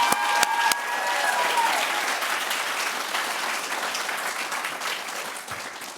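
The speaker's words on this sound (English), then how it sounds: "I do need you to applaud one more set of people" A crowd at a graduation ceremony claps steadily throughout, a dense wash of applause with a few whoops near the start.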